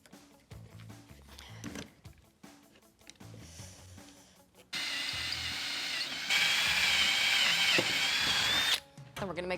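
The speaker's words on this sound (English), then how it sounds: "Then I got my trusty drill. I'm going to be making some holes in my juniper." A handheld power drill boring holes in juniper wood, heard as short whirring bursts and then a longer sustained high whine that rises in pitch, close up, with quiet workshop handling noises around it.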